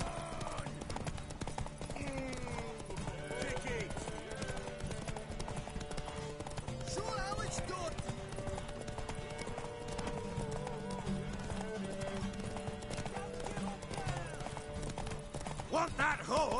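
Hooves clip-clop rapidly as a horse gallops in The Witcher 3, with occasional neighing, a steady rhythmic beat running under game music and talking characters.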